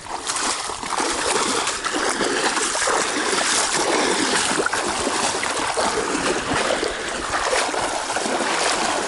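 Steady rushing and splashing of water as a hiker fords a cold stream on the Florida Trail in Osceola National Forest, continuous and close throughout with no pauses.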